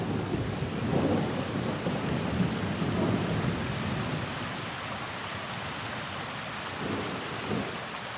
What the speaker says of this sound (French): Nuages et pluie.